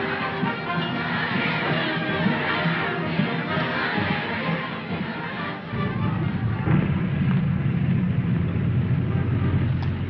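A huge, colourful crowd of young girls waving Canadian and Chinese flags cheers and shouts on an airport tarmac in Beijing, a dense continuous roar of many voices with engine or vehicle rumble underneath, swelling louder in the second half.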